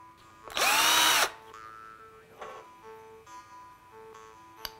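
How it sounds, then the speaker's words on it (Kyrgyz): An electric drill spins briefly at high speed for about a second while winding metal wire around a rod to form rings for a jeweller's chain, then softer metallic ticks and clicks follow in a quiet workshop. "электродрель менен батыраак ороп алса болот да"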